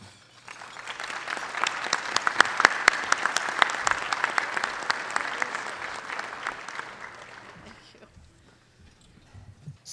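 Steady audience applause welcoming attorney Christen White at an HFO-TV event on Portland housing, a dense clatter of many hands that swells, holds for several seconds and then fades out to quiet.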